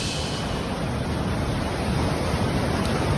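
Ocean waves surge in a steady, loud wash of surf on the shore where a parked car was swept away, with no other sounds above it.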